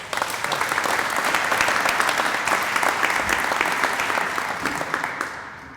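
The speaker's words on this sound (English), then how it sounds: "Let's give him a round of applause." A crowd at an economic development announcement in Baldwyn, Mississippi claps steadily and fairly loudly for several seconds, tapering off at the end.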